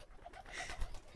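Pigeons in a backyard loft with nesting pairs coo softly and close by, a short low murmuring call that stands out against quiet background rustle.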